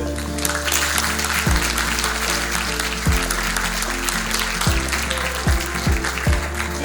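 A crowd at a diploma ceremony applauds continuously, the steady clapping loud and close, with no one speaking.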